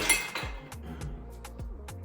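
Ice being poured out of a pre-cooled cocktail glass gives a clatter of cubes followed by a series of bright glassy clinks and taps spaced through the moment, fairly close and without speech.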